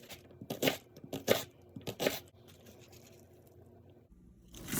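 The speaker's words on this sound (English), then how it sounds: "I'm going to start by chopping up some onions." A kitchen knife chops onions on a cutting board for collard greens prep: three heavy, evenly spaced chops with crunchy texture, followed by quieter shuffling sounds.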